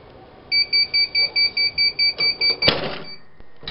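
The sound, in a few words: heat press timer alarm going off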